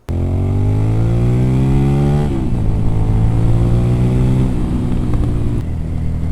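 A Suzuki SV650 motorcycle rebuilt from abandoned condition revs its loud exhaust close by, rising in pitch, then dropping and climbing again, ending in a steady roar.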